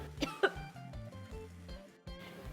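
Coughing fit from a woman collapsing into a faint during a Korean royal drama scene, a few sharp coughs at the start followed by voiced, speech-like sounds and a soft music bed.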